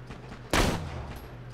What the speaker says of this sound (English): All right, who's shooting?